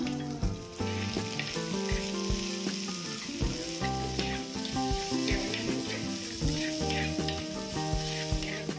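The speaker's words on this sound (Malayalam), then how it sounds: "ഇനി ഇതിലേക്ക് ചെറിയ ഉള്ളി കട്ട് ചെയ്തതും കുടംപുളി അരിഞ്ഞു വെച്ചതും കൂടെ ചേർത്ത് നമുക്ക് നന്നായി ഇളക്കാം." Shallots and kokum fry in a hot pan for a Kerala fish peera dish, giving a dense, steady sizzle with stirring scrapes throughout. The sound is close and loud, and no one speaks.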